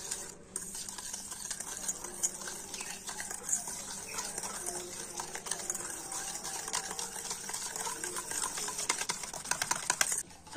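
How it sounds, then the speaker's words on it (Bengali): Sweet powder and sour curd are whisked together in a bowl for an eggless cake batter, giving a steady, close, continuous scraping and tapping of a utensil for the whole stretch without talk. "আর এবারে আমি মিষ্টির গুঁড়ো আর টক দইটা একটু ভালো করে মিশিয়ে নেব।"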